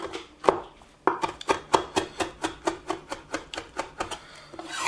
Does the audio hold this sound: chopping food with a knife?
yes